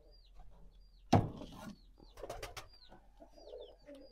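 Pigeons kept at home coo softly nearby, several short throaty calls spread through the moment, along with a sharp knock or flutter and faint rustling.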